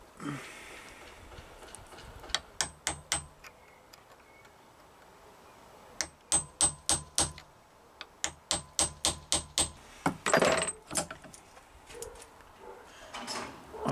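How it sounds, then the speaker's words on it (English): Repeated sharp metallic taps of a small toffee hammer in quick clusters, striking a punch to knock out roll pins on an EMCO FB2 milling machine, with short pauses between bursts, fairly close. "i will get them roll pins knocked out"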